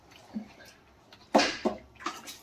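Water poured into a cooking pan of simmering green chilli chicken curry, heard as a few short splashing bursts close by, with quiet kitchen background between them.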